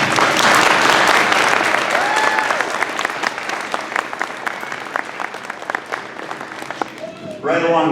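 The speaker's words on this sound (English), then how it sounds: "Kids, can we have a big round of applause for your teachers?" A kindergarten concert audience applauds the teachers with a loud, dense burst of clapping that gradually thins into scattered claps before a voice begins speaking at the very end.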